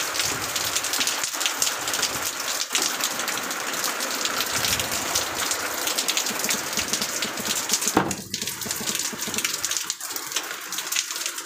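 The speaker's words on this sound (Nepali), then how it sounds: "यहाँ त पानी पुरा यत्रै पर्छ हेर्नु।" Heavy rain pours down steadily in a loud, dense hiss during a downpour at a house in Shillong, with no break and no voices.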